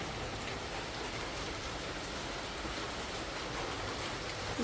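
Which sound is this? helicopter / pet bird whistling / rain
rain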